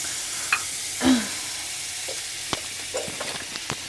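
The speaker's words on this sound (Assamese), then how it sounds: "আৰু এই বাটাৰখিনি অলপ লৰাই দিছোঁ গলি যোৱালৈকে এনেকৈ।" Butter melts in a hot kadai while being stirred, a steady soft sizzle broken by a few scraping stirs and small crackles, close and clear with no talking.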